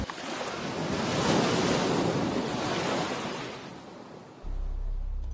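Sea waves wash in a broad, rushing roar that swells and then recedes, with wind noise and a low rumble entering near the end. No voices are heard.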